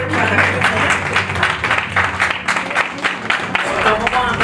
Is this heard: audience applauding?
yes